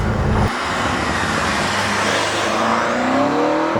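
A loud BMW M5 First Edition (2018) engine drones steadily, shifting pitch as it accelerates, with road and wind noise throughout.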